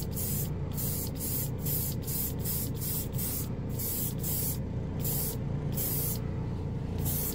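Craft-store gold and silver spray paint hisses from an aerosol can in a long series of short, even bursts, close and loud, with brief pauses between sprays.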